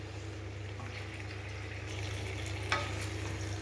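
Potato and cauliflower curry (aloo fulkopi rasa) stirred in a pan while it fries, a steady close sizzle with soft scraping and one brief clink near the end.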